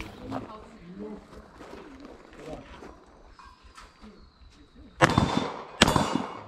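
A first-time shooter firing a firearm at a shooting range, two sharp loud reports near the end after quieter talk between people, with birds cooing in the background.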